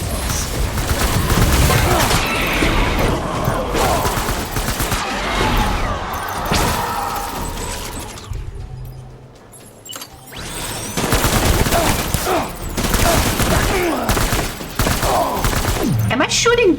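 Rapid gunfire from shooting in the Death Stranding video game, dense sustained bursts of fire filling most of the stretch with a short lull in the middle, loud and close.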